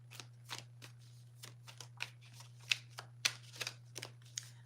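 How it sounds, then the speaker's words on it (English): A Crow Tarot deck being shuffled by hand, a run of close, crisp riffling card snaps in irregular bursts over a quiet steady hum, with no talking. "I think I've been shuffling now for like 45, 60 seconds"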